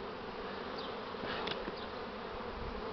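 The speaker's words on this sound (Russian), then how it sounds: "Бляха, столько пчел молодых ползая, пузатых." Young honeybees from a swarm buzz around the hive in a steady, dense drone, with individual bees passing close to the microphone, continuous and fairly quiet, with no talking.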